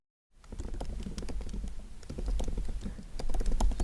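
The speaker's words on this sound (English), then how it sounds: "You can type something in here." Fingers type on a computer keyboard, a rapid close run of light plastic key clicks with uneven rhythm that grows slightly louder toward the end, no voices.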